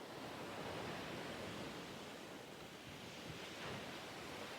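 Storm waves crash and surge onto a beach at Livadia in Crimea, a loud continuous roar of surf and spray with wind buffeting close by and no voices.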